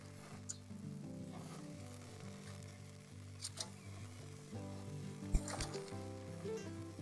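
A spatchcock chicken on a braai sizzles quietly as it is basted with a green chili, yogurt, chutney, garlic and ginger baste, with soft crackles and a few brief clicks and scrapes over a faint low hum.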